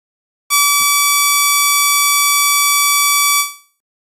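A Brazilian industrial siren, a Tucano alarm, starts abruptly with a loud, steady electronic tone rich in harmonics. It holds at one pitch for about three seconds, then fades out quickly, alone with no other sounds.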